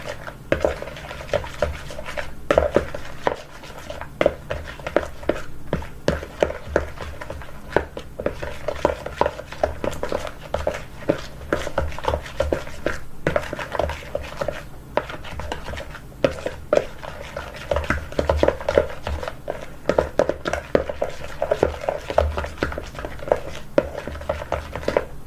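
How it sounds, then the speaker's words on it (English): A spoon stirs apple pie filling ingredients in a bowl, giving a steady run of soft scraping, clinking and squishing strokes at close range with no talking. "Now I'm going to take this spoon and mix this all together"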